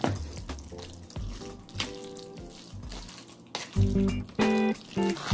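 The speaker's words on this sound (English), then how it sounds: "if your macaroni and cheese ain't making that noise, try again" Thick, extra-cheesy macaroni and cheese stirred in a pot, giving wet, squelching sounds that come in bursts, louder and stickier toward the end, with no talking.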